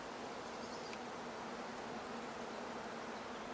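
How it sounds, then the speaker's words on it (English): Bees swarm near their hives in a UK garden, a faint continuous buzzing drone holding steady throughout with no speech. "I can hear the bees."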